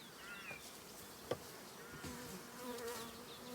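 Busy buzzing of many honey bees at close range at a hive entrance fitted with a bottom pollen trap, a continuous drone with individual insects whizzing past and one brief click.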